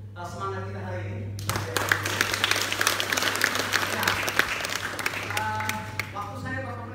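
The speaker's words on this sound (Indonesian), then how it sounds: "Kita berikan aplaus untuk semangat kita hari ini." An audience at a digital literacy week event in the village of Riangkotek, Lewolema, bursts into applause that swells after a spoken lead-in and fades about five seconds later, with voices around it.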